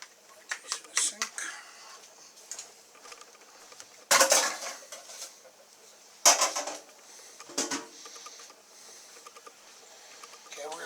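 Dishes, pots and pans set down in a kitchen sink while a Christmas turkey stuffed with ham is being prepared, giving sharp clattering knocks and bangs in a few bursts amid quieter handling noise.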